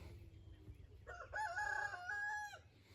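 A rooster crows once at moderate distance as chickens are let out, a clear drawn-out cock-a-doodle-doo rising over soft rustling and farmyard background noise.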